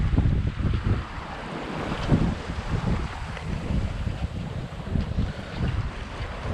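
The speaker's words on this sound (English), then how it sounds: "the wind is probably 10 to 12 knots right now" Wind and waves at sea aboard a Contessa 26 small sailboat crossing the Atlantic, a steady roar of wind buffeting the microphone with sloshing wave surges, loud and continuous, no speech.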